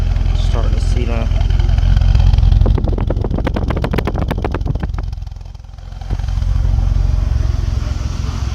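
BMW E46 engine running with an exhaust fault: a steady low rumble with a burst of rapid, clattery pulses midway. A voice is briefly heard near the start.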